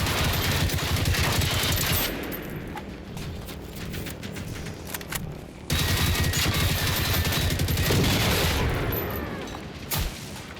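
Rapid gunfire from fighting robots in the video game Generation Zero, dense, loud bursts running through most of the stretch and easing slightly between volleys.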